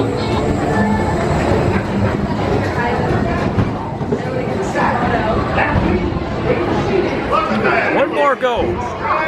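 Seven Dwarfs Mine Train roller coaster at Magic Kingdom, heard from the front car during fireworks: loud rumbling wheels and rushing wind under continuous excited riders' chatter and shouts, with a brief drop in the noise near the end.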